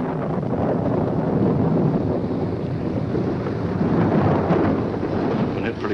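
A thunderstorm with thunder and rain rolls on steadily, a broad continuous rumble with gusty wind noise, loud and close throughout with no clear break.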